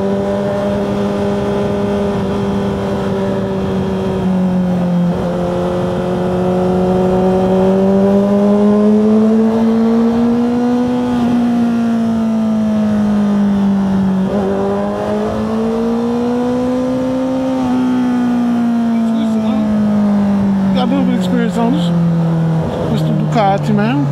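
A loud, steady engine drone rises and falls in pitch through repeated throttle swells in traffic while a rider talks over it, and the sound is consistent with a Ducati motorcycle.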